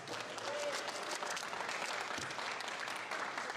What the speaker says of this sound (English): Let's give a round of applause to all of our newcomers at this competition.